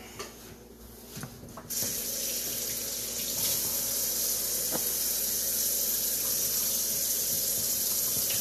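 Tap water runs steadily into a kitchen sink during washing, a close, continuous splashing hiss that surges in loudly after a quieter start and holds on without talk.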